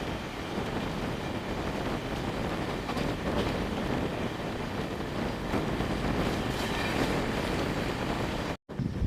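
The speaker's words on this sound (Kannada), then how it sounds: "ತಿರುಪತಿ ಚಾಮರಾಜನಗರ ಎಕ್ಸ್ಪ್ರೆಸ್ ಜೊತೆ ಜಿಂಗ್ ಆಗ್ತಿದೆ ನಮ್ಮ ಟ್ರೈನು" Inside a Chamundi Express passenger train, a Tirupati–Chamarajanagar Express passes alongside: a dense, steady roar of rushing carriages and wind, loud and unbroken for about nine seconds before a brief drop.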